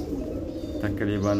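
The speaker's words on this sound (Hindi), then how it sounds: "ये मेरा बहुत पुराना कबूतर है" Pigeon cooing from an old breeding pigeon about six or seven years old, a soft low repeated coo running steadily under a man's close speech.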